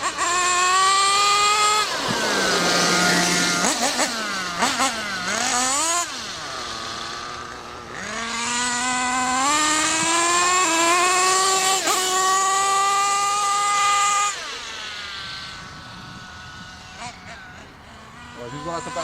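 A nitro-fuelled model engine screams through dynamic break-in, its loud high-pitched whine rising and falling repeatedly as it revs through gears, then dropping toward idle near the end, with someone talking over it.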